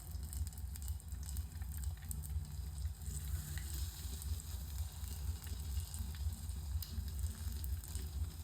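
Broccoli pakoras fry in hot oil, giving off a steady, close sizzle that continues without a break and with no talking.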